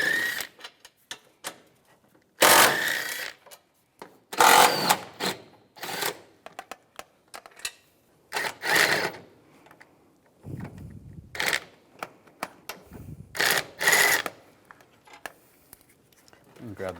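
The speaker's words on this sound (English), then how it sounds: "Then take these bolts off on both sides using a 13mm socket." A ratchet on a 13mm socket works bolts loose on a 2004-2010 BMW X3, rapid clicking bursts in several short runs with pauses and a few louder metallic knocks, a voice speaking in between.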